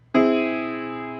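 A single sustained keyboard-style chord, likely a major triad raised to an augmented triad, strikes sharply and rings steadily, decaying slowly, heard alone and fairly loud.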